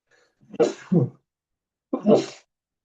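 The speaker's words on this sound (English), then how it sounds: "I always sneeze more than once." Sneezes sound close up in a quiet room: a quick double sneeze, then a pause and a third sneeze, all from one person with no talking.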